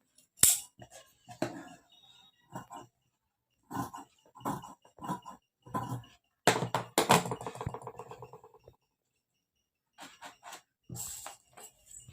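Scissors snipping through blouse fabric in a series of short close crisp cuts with pauses between, during boat-neck blouse cutting at a tailoring table.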